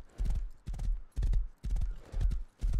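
Rhythmic clip-clop of horse hooves walking in the survival video game Rust, close and regular in repeated bursts with short gaps, no talk over it.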